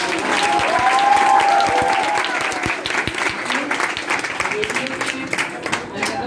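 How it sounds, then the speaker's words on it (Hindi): An audience at a quiz contest gives hearty applause, a dense crowd clapping with distinct nearby claps, while a faint voice and a brief whistle-like tone come through early on. "एक बार जोरदार ताली"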